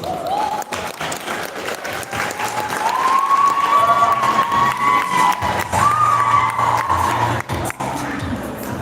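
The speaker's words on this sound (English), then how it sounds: "Give her a round of applause" Pageant crowd applauding and cheering for a contestant, thick continuous clapping with whoops and shouts rising over it, loud and close, swelling in the middle and tapering slightly toward the end.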